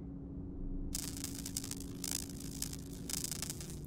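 Simulated welding for a sci-fi robot chest repair: after a quiet hum, soft crackling, hissing bursts start and come in short pulses, close and gentle, with no voices.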